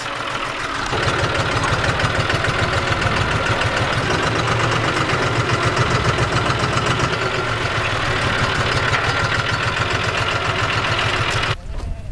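A tractor with a front end loader idles with a loud, steady low chugging rumble throughout, then cuts off abruptly near the end.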